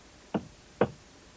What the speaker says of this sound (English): What was that knocking?